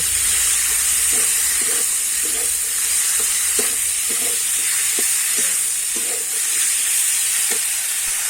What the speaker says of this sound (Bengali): এবারে কিন্তু ডুমুরটা দিয়ে দেবো দিয়ে কিন্তু আমি ভালো করে কষাতে পারবো